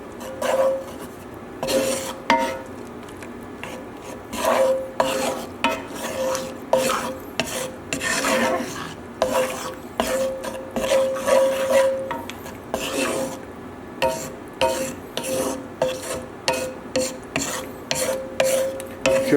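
A utensil scrapes and stirs sour cream and Dijon sauce in a pan, making repeated rasping strokes against the metal in an uneven rhythm, close up and fairly loud.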